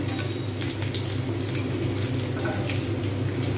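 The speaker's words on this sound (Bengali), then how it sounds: "আমি এই সময় চিকেন পকোড়া ভাজতে শুরু করেছি" Chicken pakoras frying in oil at a fairly high heat, giving a steady, close hiss of bubbling oil with small crackles and pops running through the whole stretch.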